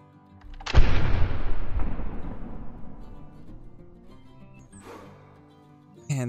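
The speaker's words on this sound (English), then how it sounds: "So let's just go ahead and take a shot on him." A single loud rifle shot at a whitetail deer in the hunting game theHunter Classic booms out sharply, then its echo rolls away slowly over several seconds, with a fainter sound near the end.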